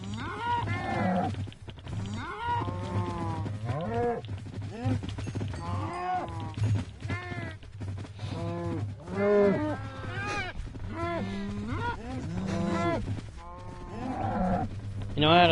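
Cows in Minecraft Bedrock Edition moo repeatedly in a steady, overlapping series of loud calls over a low constant hum, running throughout with no pauses.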